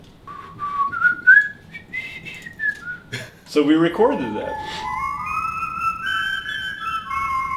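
A person whistles a bright, wavering melody, imitating Boy Scouts whistling in the woods. Brief talk interrupts partway through, then the whistling resumes with longer sliding notes at close range.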